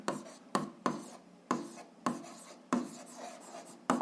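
A pen writes coordinates on paper for an algebra exercise. Close, quiet, scratchy strokes come in short bursts separated by brief pauses, with no talking.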